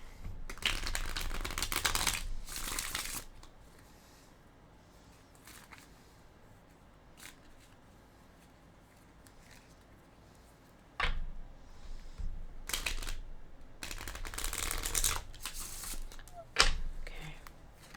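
Tarot cards being shuffled and drawn, several bursts of loud, close riffling and flicking separated by quieter stretches with soft taps and slides of cards.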